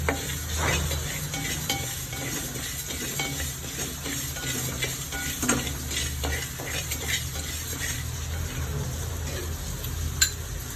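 Whole spices for idli podi dry-roast in a pan, giving a close, steady crackle with scattered pops and sharp clinks as a spoon stirs them against the metal.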